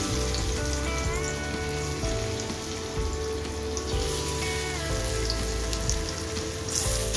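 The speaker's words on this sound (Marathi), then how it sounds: "तव्यावर तेल पण तापत ठेवलं आहे मी. आता एक एक वडी टाकून अशी असं 4-5 वड्या ठेवायच्या" Colocasia leaf rolls (aluvadi) shallow-fry in oil on a flat tawa, giving a steady, dense sizzle that keeps on without a break. Faint tonal music sits underneath.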